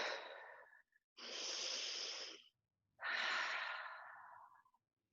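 Three long, airy breaths during a seated stretch session, each a broad hissing rush of air with near-silent gaps between, close and fairly soft, with no one speaking.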